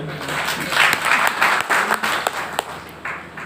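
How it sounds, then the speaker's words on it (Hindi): Audience applause at an agriculture talk in Hindi, a dense steady clatter of clapping lasting about three seconds with a few louder claps standing out and no voices over it. "एक बार जोरदार तालियां हो जाए आपके लिए।"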